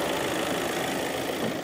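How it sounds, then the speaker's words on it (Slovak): A Volkswagen Tayron's 2-litre diesel engine, rated 142 kW, runs at a steady idle with a dense, even rumble and faint ticking, close and unchanging throughout. "Pod kapotou je pravoslávny 2-litrový naftový motor."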